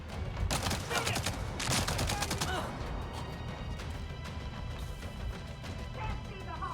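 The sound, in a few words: gunfire from the video game Avatar: Frontiers of Pandora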